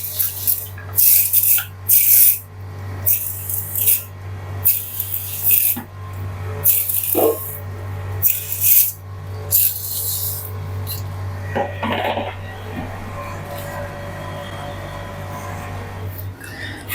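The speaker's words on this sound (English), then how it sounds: "I'm just gonna spray and try to clean the leaves with my hands" Bursts of spray hiss from a hand sprayer misting an Alocasia houseplant infested with spider mites, repeated in a loose rhythm close by, followed by soft rubbing and rasping as the wet leaves are wiped clean by hand.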